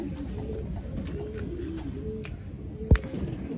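Tournament pigeons of an old-line breed coo softly and steadily at low pitch, a continuous murmuring backdrop with one sharp click near the end.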